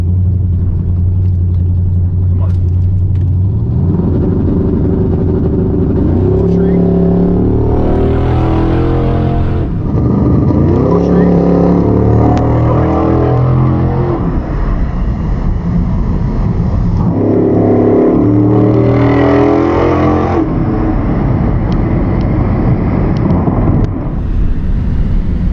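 Drag strip launch between a Tesla Model S Plaid and a gas Super Gas roadster: a heavy engine rumble builds through repeated loud revving surges and accelerating pulls, close and dominant, with a near-silent pause between runs.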